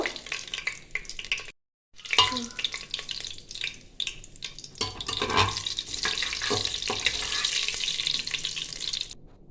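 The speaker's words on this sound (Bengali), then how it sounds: "হাফ চামচের মতন গোটা জিরে, এটা একটু ভেজে নেব।" Whole cumin seeds sizzle and fry in hot oil for Bengali doi mutton, a steady close crackling hiss with a brief pause near the start and stirring throughout, no talk.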